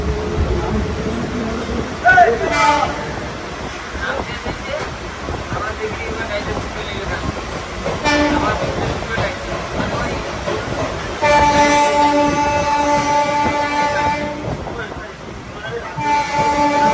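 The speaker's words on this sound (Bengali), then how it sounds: "এইখান থেকে দেখো পাঁশকুড়া লোকাল বেরিয়ে গেল" A Panskura local train pulls out of a station, its wheels and carriages rumbling and clattering near and loud, and a sustained horn blast sounds in the second half, with voices faintly in the background.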